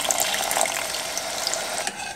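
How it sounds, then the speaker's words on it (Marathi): Hot water pours into a spicy shev bhaji gravy in a pan, making a loud, continuous sizzling and splashing rush that holds steady throughout, with no voices. "गरम पाणी टाकून घेऊयात"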